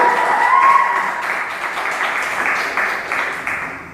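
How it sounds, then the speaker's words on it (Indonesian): Easter service congregation applauding, a steady wash of clapping throughout that is strongest early and tapers slightly, with a faint tonal note near the start. "Tepuk tangan bagi Dia."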